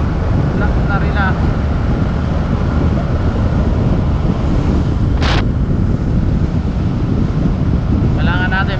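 Strong wind gusts buffet the microphone outdoors, a steady loud rumble throughout, with brief faint voices in the background.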